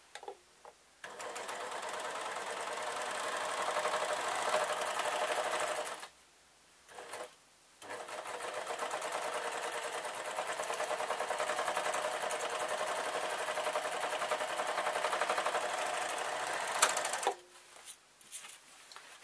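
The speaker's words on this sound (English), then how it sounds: "and then I'm going to sew." A sewing machine stitching dress fabric, running in long steady bursts of fast rhythmic whirring with brief pauses between runs, close and clear.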